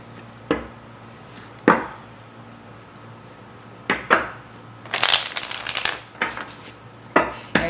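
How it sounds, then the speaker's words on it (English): Tarot cards are shuffled in short, crisp bursts spaced a second or two apart, with a longer flurry of riffling near the middle, close and clear with no talking. "As I'm shuffling"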